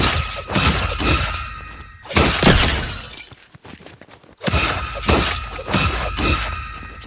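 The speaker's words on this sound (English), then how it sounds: "this is how it sounds when pickaxing opponents." Slasher pickaxe striking opponents in Fortnite, giving loud, sharp shattering impacts with glassy crunches and thuds in two dense bursts separated by a brief quiet gap, with no talk.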